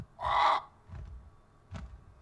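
A bird in the video game Pathfinder Kingmaker gives one loud, harsh caw, followed by two fainter calls, against a quiet background.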